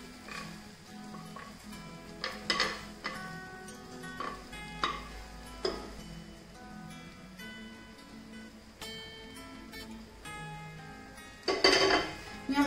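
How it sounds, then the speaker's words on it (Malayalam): Cooked rice tipped into a pan of sautéed chicken and vegetables for a pulao, with scattered clinks of utensil on metal and scraping stirs over quiet background music, plus a louder clatter near the end. "ഇനി ഇതിലോട്ട് വേവിച്ച് വെച്ചേക്കുന്ന ചോറ് ഇട്ട് കൊടുക്കാം"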